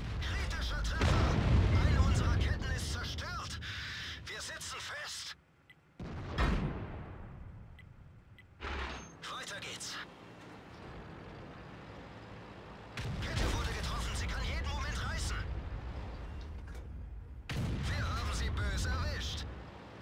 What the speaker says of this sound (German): Wundert euch nicht, ich schieße viel HE